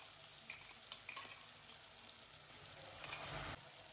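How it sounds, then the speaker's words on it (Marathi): Ground green chili and garlic with salt fry in oil alongside softened tomato for a ridge gourd chutney, making a soft, steady close-up sizzle with faint crackles throughout. "हिरवी मिरची वगैरे सगळं तेलामध्ये छान तळू द्यायचे."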